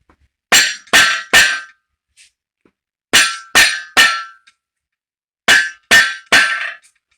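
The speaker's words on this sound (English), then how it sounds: "take a hammer with a nylon end, give it a clout" Nylon-faced hammer striking an engine crankshaft during a GT40 engine build, three groups of three sharp, ringing metallic knocks, loud and close, separated by silent pauses.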